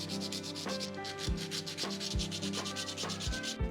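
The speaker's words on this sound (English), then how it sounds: "I'll get to work sanding the support marks." Steady rhythmic rubbing as a 3D printed plastic model is sanded by hand to remove support marks. The strokes are close and continuous, repeating about every second with no voices.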